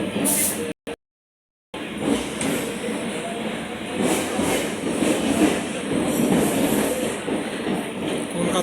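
A train runs on the Kolkata Circular Railway old service with a continuous rumbling roar, rattling wheels and some high screeching, heard from on board. The sound cuts out briefly near the start.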